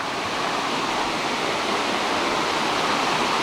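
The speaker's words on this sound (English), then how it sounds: "The brook's off to our left." A brook flows close by as a dense, unbroken rush of water, loud and steady for the whole moment with no other sounds breaking through.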